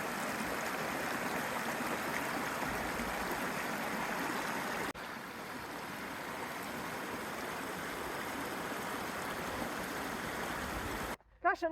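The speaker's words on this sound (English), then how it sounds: "Lots of little creeklets go into the lake." Small creek water rushing steadily into a mountain lake near Mammoth Lakes, California, a continuous broadband flowing wash heard close and fairly loud throughout.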